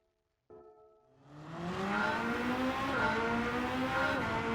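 The Porsche 963 prototype race car in Gran Turismo 7 starts up with a brief note, then its engine revs and climbs into a loud, steady, high-pitched race-car drone that holds close and alone.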